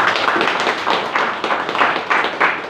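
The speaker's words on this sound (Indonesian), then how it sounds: "Tepuk tangan buat Dia." A congregation at a church service held at the Karo police station claps in unison, loud, rhythmic beats repeating about every half second, close and full with no speech over them.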